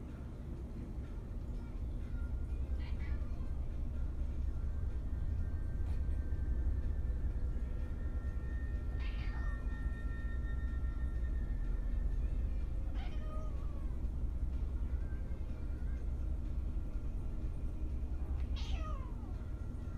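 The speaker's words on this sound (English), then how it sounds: "a video of his cat was tweeted with no context" A pet cat meowing several times at intervals over a constant low background rumble, each cry short and fairly faint.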